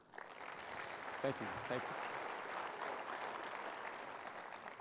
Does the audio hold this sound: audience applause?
yes